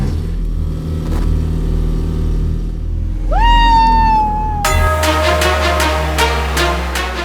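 Engine of an AI-driven car revving loudly, a steady rumble that swells midway with a rising whine, then settles into a brighter, harsher roar with rhythmic pulses.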